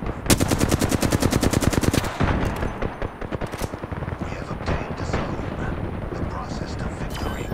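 Rapid machine-gun fire from a long-range gun in a video game, a loud, fast burst of evenly spaced shots for about two seconds, then scattered shots and explosive noise under ongoing game sound.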